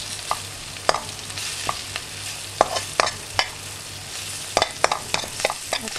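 Mushrooms fry with turmeric in a pan while being stirred, a soft continuous sizzle broken by irregular sharp scraping clicks of the spoon against the pan, close and without talk.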